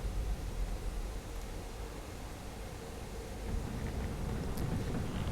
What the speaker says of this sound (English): Also, my air conditioner came on.